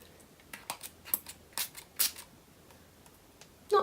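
Huda Beauty setting spray is misted in a couple of short, airy hissing spritzes, close and fairly soft, mixed with small clicks of handling and a sharper click at the end.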